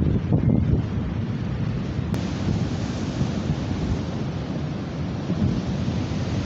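Ocean waves and wind roar along the coast at Sharks Bay, a loud continuous low rumble with heavy buffeting of the microphone and no voices.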